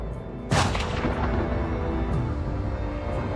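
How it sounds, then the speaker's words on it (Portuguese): A single loud gunshot from an execution cracks sharply and rolls into a long echoing boom that fades slowly over several seconds. "Quando os tiros param de ecoar"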